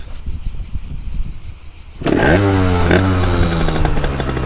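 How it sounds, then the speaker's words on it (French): A Derbi motorcycle with a 70cc Metrakit engine starts abruptly after quiet rustling, then its two-stroke engine buzzes loudly and steadily nearby, with a brief rev. "je vais vous démarrer la moto en direct"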